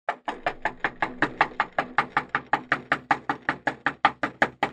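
A narrator raps a rapid, relentless series of knocks, around twenty evenly spaced close blows in under five seconds, to mimic someone frantically pounding on a house door.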